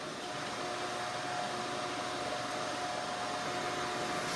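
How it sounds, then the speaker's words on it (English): A bandsaw cutting exotic wood blanks into skeleton knife shapes gives a steady, close, loud whirring drone with no pauses and no voices. "now these are ready to take to the bandsaw to cut out the overall shape"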